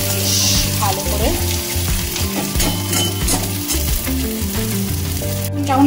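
Dried red chillies and a spoonful of five-spice tempering sizzle steadily in hot oil in a pan while being stirred, a continuous close frying crackle with low scraping, no talk over it.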